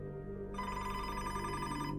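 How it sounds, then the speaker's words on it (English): An office telephone rings, a steady electronic trill that stays faint and continuous throughout. "the office phone rang"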